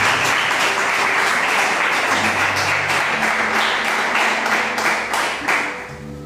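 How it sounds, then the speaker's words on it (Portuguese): A church congregation applauds in worship, sustained loud clapping from many people with a few distinct individual claps, and faint vocal sounds in the background. "Aplauda o Senhor."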